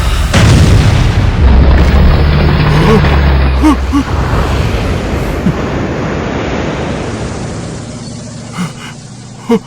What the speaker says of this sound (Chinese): 对，我还有坦克，快，给我瞄准周元，给我把他轰成渣！